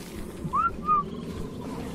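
Two short rising whistle notes sound in quick succession over a low background hum, used as a command call in the video game ARK Survival Evolved.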